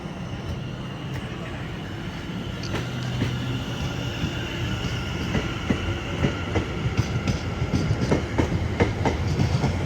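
Class 701 unit 701037 departs Clapham Junction bound for London Waterloo, a close rumble with rhythmic wheel clatter that grows louder and busier as it pulls away.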